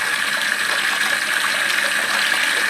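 Tap water runs steadily into a container while cacao beans are washed, a continuous hissing gush with no pauses or voices.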